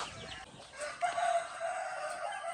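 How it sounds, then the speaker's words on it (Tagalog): A brooder packed with chicks, including G-fowl, giving faint high peeping calls over a low hum of background noise, close but quiet. "Punong-puno yung ating brooder ng mga sisiyo."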